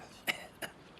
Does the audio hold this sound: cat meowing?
no